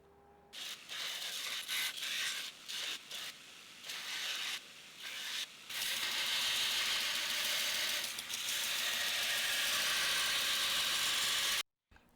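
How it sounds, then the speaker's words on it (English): Belt grinder with a Scotch-Brite belt cleaning up forged steel tongs, heard first in short stuttering bursts and then as a steady loud abrasive hiss that cuts off abruptly near the end, with no talk. "I'm going to take it over to my belt grinder and clean things up a little bit"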